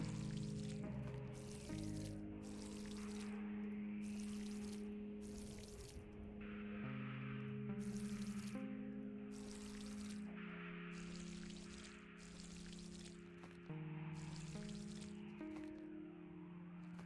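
Water poured onto crops in a farming video game, a steady soft splashing pour that runs through the whole stretch, with repeated short bursts layered over a continuous background tone.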